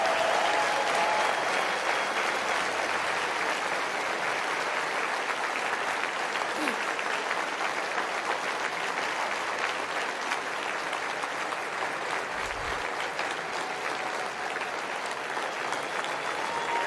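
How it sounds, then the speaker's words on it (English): A conference crowd at CPAC keeps up a long, steady round of applause. The clapping stays even and full-bodied from start to finish, forming a continuous wash of many hands in a large hall. "give her a round of applause anyway"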